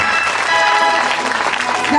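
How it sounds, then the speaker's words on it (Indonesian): An audience at a 2004 evangelistic gathering at a junior high school in Narumonda, Tapanuli, claps briefly and steadily with a hum underneath. "Tepuk tangan untuk Kathy."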